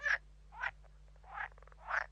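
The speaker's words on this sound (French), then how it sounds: "La grenouille verte est sans aucun doute la plus célèbre et la plus visible." Green frog calling at the Pinail nature reserve: four loud, throaty croaks spaced about half a second apart, each a short rattling burst, heard alone over a low steady hum.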